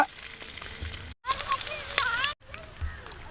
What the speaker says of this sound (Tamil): நூறு கிராம் பூண்டு இடித்து வச்ச பூண்டு போட்டுக்கலாம் எண்ணெயில்